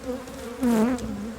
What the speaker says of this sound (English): Using a smoke gun, they evict the honeybees from their hives.